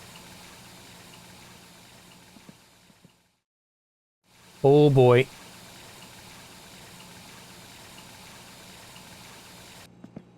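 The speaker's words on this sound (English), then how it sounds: "Fill the pot with coffee." In My Winter Car, a faucet gushes water into a coffee pot in a short, loud burst after a silent gap, with a rising tone as it fills, set against a low background hum; a voice speaks briefly.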